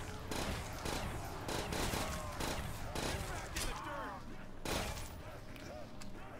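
Rapid bursts of gunfire rattle almost nonstop while zombies are shot down in a Call of Duty custom zombies trench defense map, with someone talking over the shooting.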